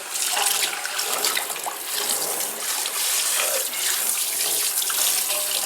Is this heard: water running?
yes